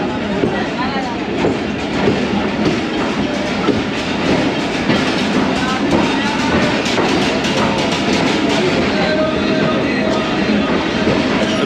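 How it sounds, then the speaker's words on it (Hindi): The Allama Iqbal Express pulls into Nawabshah Junction station, its wagons rumbling and clattering steadily and loudly throughout, close by, with a busy platform's background noise mixed in. "नवाबशाह जंक्शन रेलवे स्टेशन पहुंच गई है"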